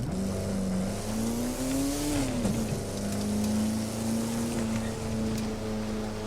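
A Jaguar E-Type Series 1 accelerates in the racing video game The Crew 2, its engine note climbing steadily, dipping briefly on a gear shift, then rising again loud and continuous.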